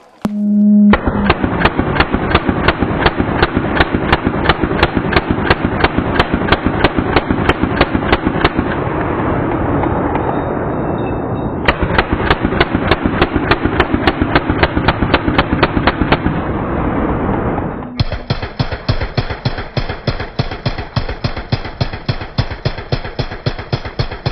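An overheated LMT rifle barrel firing off cooked rounds in long, rapid, evenly spaced bursts of sharp loud reports, pausing briefly between strings, with a ringing tone underneath and a final faster burst.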